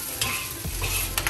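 Chinese-style fried rice made without egg is stirred and fried in a wok, with a continuous sizzle and a few scraping stirs of the spatula against the pan, close and alone with no talk.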